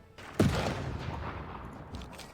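Field cannon firing in Civilization 6, a single sharp, booming shot near the start followed by a decaying rumble and quieter battle ambience.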